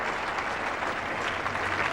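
Test cricket crowd applauding a batsman's century at a 1975 Ashes match, steady sustained clapping from many hands, loud and even throughout.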